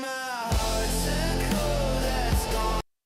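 Suno V5 AI-generated song playing loud and full, a mixed arrangement with steady bass, vocal-like melodic lines and rhythmic hits throughout, ending abruptly after a few seconds.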